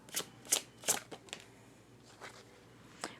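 Tarot cards being shuffled in several quick riffling bursts, with crisp papery flutters spaced out over a few seconds and quiet pauses between them.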